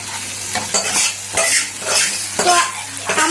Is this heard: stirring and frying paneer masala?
yes